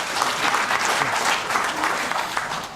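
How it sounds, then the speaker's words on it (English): Audience clapping at a maritime transport side event hosted with the Kenyan government, a full, steady roar of applause from a large crowd sustained throughout. "So we have to clap for them. Please, clap them."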